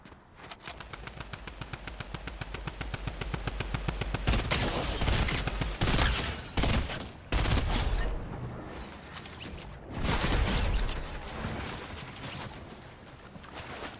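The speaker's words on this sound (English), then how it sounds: "Someone else is shooting, but I don't know from where." Video game gunfire, a rapid automatic burst that speeds into a dense roar and then breaks into heavy overlapping volleys and scattered shots, loud and continuous, with no talk over it.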